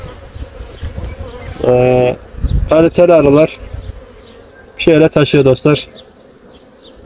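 Loud, close buzzing of honeybees at a hive in Ankara, Turkey, comes in several strong bursts over a steady hive hum, with someone speaking briefly.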